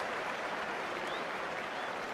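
A cricket crowd at Trent Bridge during an England versus Pakistan Test applauds a six, with steady, distant clapping filling the stadium throughout.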